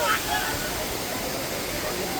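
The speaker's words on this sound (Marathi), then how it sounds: "और ये सामने धबधबा आप देख सकते हो." A waterfall in a dense forest pours with a constant broad rushing roar, steady and fairly close, with no distinct breaks.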